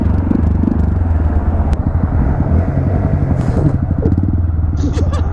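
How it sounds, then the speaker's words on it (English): Motorcycle fitted with a new aftermarket exhaust, idling close by with a steady low rumbling burble throughout, light traffic in the background. "Oh, your new exhaust is great."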